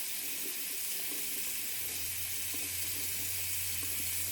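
Tap water running steadily into a bathroom sink during wet shaving, a constant close hiss of flowing water with a low hum joining partway through.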